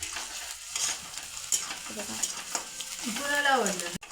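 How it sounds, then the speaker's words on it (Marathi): Onion and garlic frying and being stirred in a pan: a light sizzle with intermittent scrapes of stirring, and a short tonal squeak near the end. It stays quiet and close. "हे बघा हा मम्मी कांदा भाजत्या आता हा कांदा पूर्ण गोल्डन ब्राऊन ब्राऊन होईपर्यंत भाजायचा"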